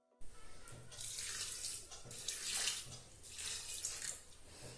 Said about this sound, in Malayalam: പിന്നെ ഇതിന് ആവശ്യത്തിന് വെള്ളം കൂടി നമുക്ക് ഒഴിച്ചു കൊടുക്കാം